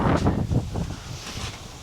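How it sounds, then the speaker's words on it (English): Gusty wind blowing in through an open doorway buffets the microphone in loud, low rumbling bursts, close and rough, with no voices. "It's bloody windy in here now with the door open."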